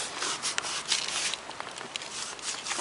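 Fennel leaves rubbed and crushed between the hands outdoors on a hike, making soft, repeated crackly rustling strokes, close and fairly quiet.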